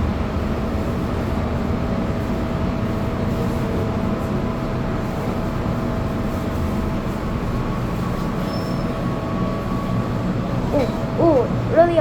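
Hong Kong MTR Island Line train running, a steady loud rumble with a sustained whine throughout, and squealing tones rising near the end.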